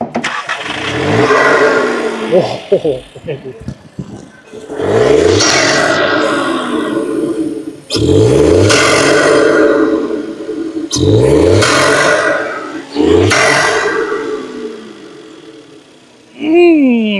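A VW Polo GT TSI fitted with an open air intake cranks and fires, then settles into idle; the engine is revved repeatedly in strong, loud rising and falling sweeps close by, with a brief spoken exclamation at the start.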